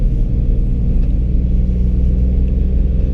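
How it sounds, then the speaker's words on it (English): A drift car drives along a road, its engine giving a steady, close, low rumble from inside the cabin for the whole stretch, with no talking over it. "this is the first time I drive the car"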